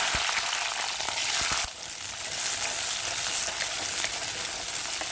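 Turkey berries sautéing in oil with tomatoes, garlic and curry leaves for a pepper rasam, a steady bright sizzle with a few stirring clicks early on, close and continuous.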